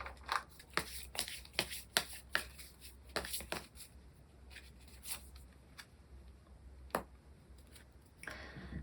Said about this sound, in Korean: 마지막으로 조언 카드 뽑아보도록 하겠습니다.